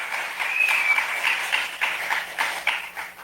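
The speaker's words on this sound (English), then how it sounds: "Give yourselves a round of applause." A crowd at an evening public political meeting in Sangre Grande claps and cheers, a dense, continuous wash of applause that swells and dips briefly.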